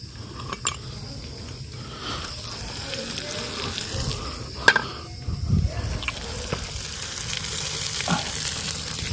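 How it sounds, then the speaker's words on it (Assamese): Potatoes frying in a home kitchen pan, a steady close sizzle with scattered pops and clinks running the whole length, rising slightly toward the end. "আলুখিনি ভাজি লওঁ বঢ়িয়াকৈ"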